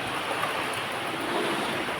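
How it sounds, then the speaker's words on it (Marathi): Continuous roaring cyclone storm wind with a broad hissing rush, steady and loud throughout, buffeting close to the microphone. "एवढा वादळ सुटलाय"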